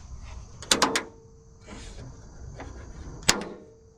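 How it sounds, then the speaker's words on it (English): Door latch on a 1979 Porsche 911, Subaru-swapped, being pulled to work the mechanism: a cluster of sharp metallic clicks near the start, a softer rattle midway, then one crisp latch snap near the end, close and fairly quiet. "just pulling on this latch is what activates the mechanism"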